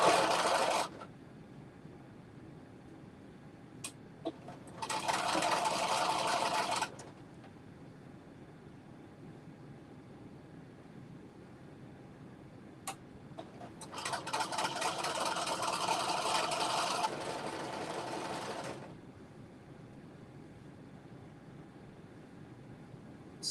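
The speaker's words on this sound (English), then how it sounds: "I'm literally just going to do a top stitch until I get to the end." A sewing machine top stitches along a dress strap in two bursts of fast, even running, one short and one longer, separated by quiet pauses with a few faint clicks.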